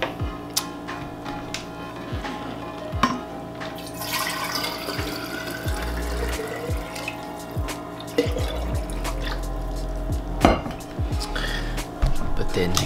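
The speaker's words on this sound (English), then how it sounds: "Then gotta fill up my water bottle." Water streams from a tap into a water bottle, a continuous splashing flow under a low background hum, with occasional clinks and knocks.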